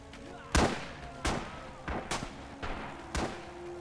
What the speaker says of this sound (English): Did the artillery stop just because I left?